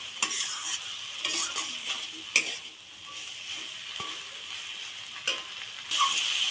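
Masala for a thin foli fish curry with potato being sautéed in oil, heard as a crackling sizzle with frequent spoon-scraping stir strokes and occasional metallic taps, close and steady with no voices.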